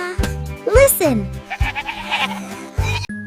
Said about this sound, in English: This is a goat. It jumps so funny.